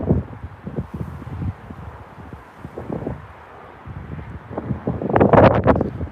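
Gusting wind of up to 40 mph buffets a light camera tripod at Newcastle Airport, producing low, uneven rumbling and rustling bursts that swell loudest near the end.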